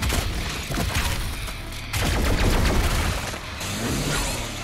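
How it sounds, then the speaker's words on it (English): Sniper gunfire in the DOOM Eternal video game: loud, dense volleys of shots and blasts run almost continuously, layered with booming impacts and game effects, and no talk is heard. "I think it's my sniper that just saved me."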